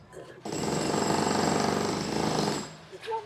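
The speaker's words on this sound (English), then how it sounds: "dude on the roof with a jackhammer, just jackhammering the roof" A jackhammer breaks up a rooftop next door, a sustained loud rapid hammering lasting a couple of seconds, starting and stopping abruptly, with faint voices around it.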